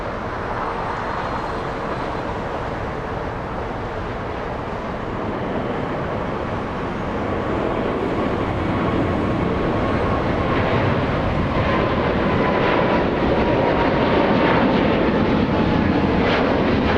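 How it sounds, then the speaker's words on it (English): A fully loaded jet airliner with GE90 engines takes off at Los Angeles International Airport bound for Sydney, a broad continuous roar that swells steadily louder over about seventeen seconds with no talk. "we're gonna hear the GE90s roar in front of us."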